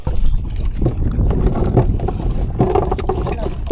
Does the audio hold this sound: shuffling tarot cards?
no